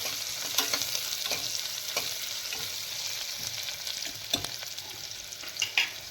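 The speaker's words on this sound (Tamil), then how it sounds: "இப்போ இது வதங்கட்டும்." Fennel seeds with coarsely pounded black pepper and cumin fry in a pan for a jackfruit gravy, giving a steady close sizzle broken by stirring scrapes and a few sharp ticks, with no one speaking.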